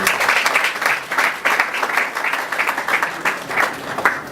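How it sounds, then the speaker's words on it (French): An audience claps steadily in dense, continuous applause, loud and close, with no pause over the whole stretch. "Si aussi on pourrait applaudir pour ce CPG."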